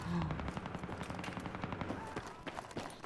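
Rapid automatic fire from an F2000 assault rifle fitted with a foregrip and laser sight in Battlefield 3 multiplayer, loud close bursts of cracking shots with a steady rhythm throughout.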